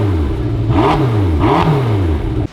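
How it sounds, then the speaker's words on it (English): A 2023 McLaren GT sports car engine revs hard in a suburban street, two rising and falling throttle blips over a steady loud idle rumble, close by, ending with an abrupt cut. "McLaren GT"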